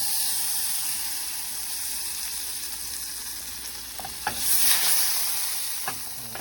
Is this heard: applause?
no